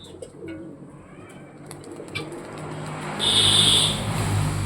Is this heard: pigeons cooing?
yes